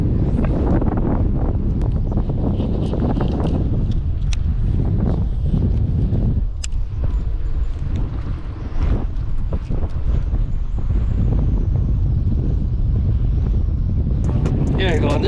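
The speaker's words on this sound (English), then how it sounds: "Woo-wee, that wind is crazy." Strong wind buffets the microphone aboard a fishing boat during a windy day of bass fishing, a loud continuous low rumble with gusty swells throughout, while people talk over it.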